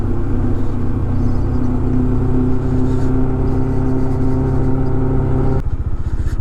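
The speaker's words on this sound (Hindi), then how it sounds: "वो गाड़ी जा रही नीचे।" A vehicle engine drones steadily on a mountain road in Spiti Valley, a loud continuous low rumble with a changing pitch near the end and no talking.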